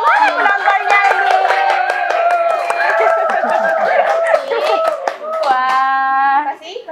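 An audience at a chat show claps in quick, dense patters under loud overlapping voices, including a child's. The clapping fades as the talking carries on alone near the end.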